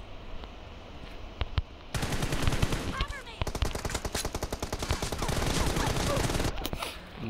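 Rapid bursts of automatic gunfire from PUBG Mobile, loud and close, with dense repeated shots in long volleys after a short quieter stretch.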